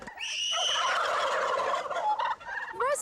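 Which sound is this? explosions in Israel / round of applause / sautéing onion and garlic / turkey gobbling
turkey gobbling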